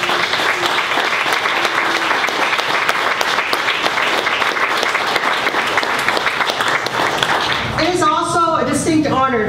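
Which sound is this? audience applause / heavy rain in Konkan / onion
audience applause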